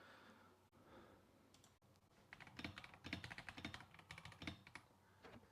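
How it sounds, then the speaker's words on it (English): Rapid, irregular bursts of keystrokes on a computer keyboard as a message is typed, fairly close and moderately loud, beginning after a couple of quiet seconds with soft breathing. "I'm just typing a message out to one of my customers."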